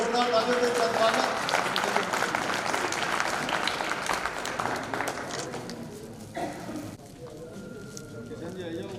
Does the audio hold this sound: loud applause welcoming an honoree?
yes